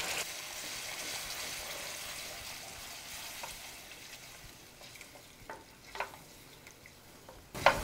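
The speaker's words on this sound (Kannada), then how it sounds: "ನೋಡಿ ಬೇಳೆ ಟೊಮೊಟೊ ಎಲ್ಲ ಚೆನ್ನಾಗಿ ಕುದಿ ಬರ್ತಾ ಇದೆ" Lentils and smashed tomato cooking in a pot with fried onion, a soft continuous bubbling and sizzling hiss with a few light clinks of a spoon near the end, no voices.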